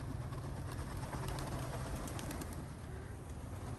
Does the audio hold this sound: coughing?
no